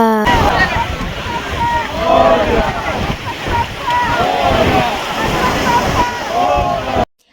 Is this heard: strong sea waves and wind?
yes